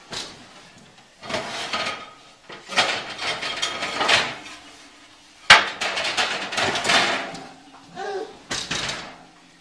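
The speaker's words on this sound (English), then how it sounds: "So I've got my pizza stone in the oven. So I'm going to pull that out." A very hot pizza stone is dragged out of a home oven onto a pizza peel: several bursts of scraping and sliding, clunks of the oven rack and a sharp knock midway, loud and close, with no voices.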